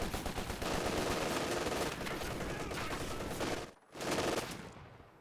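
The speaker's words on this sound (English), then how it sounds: "as a MG does start suppressing" A machine gun lays down suppressing fire against Grenadiers in Company of Heroes, a World War II strategy game. Rapid, dense bursts rattle loud and steady, pause for a split second near the end, then resume.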